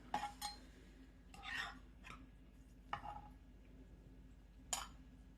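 Serving utensil scraping and clinking against a 9x13 pan of Easter casserole with scalloped potatoes, ham and green beans, giving a few quiet, scattered clinks and scrapes in a hushed kitchen.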